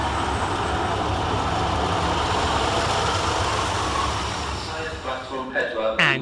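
Transport for Wales unit 231003 pulls into Cardiff Queen Street station on the Penarth to Bargode service. A steady, loud rumble of wheels and engine gradually eases, and a few sharp squeals and brake tones follow at the end.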